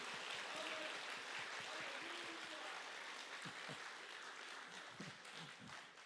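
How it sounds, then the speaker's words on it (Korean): Steady applause from a church congregation at an autumn revival service fills the whole stretch, a dense, even patter that fades slightly toward the end. "찬양의 박수 올려드리겠습니다."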